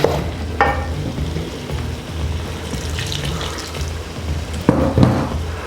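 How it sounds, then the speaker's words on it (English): Lamb chop curry pan deglazed over high heat, a loud, steady hiss and bubbling wash of liquid hitting hot metal with a few sharp scrapes and knocks near the end, close and continuous without speech. "Look, we're deglazing the pan of all that"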